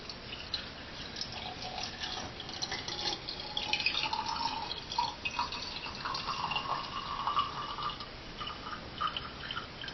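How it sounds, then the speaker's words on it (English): Water trickles and drips steadily into a meditation lamp container over stones for about ten seconds, a soft continuous liquid pour with small splashy drips, no voices. "we're just going to add some water"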